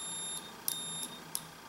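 While a broken Nintendo 64 cartridge is being repaired, a multimeter set to continuity mode gives four short, high, clear beeps at a fairly steady pace against a quiet background.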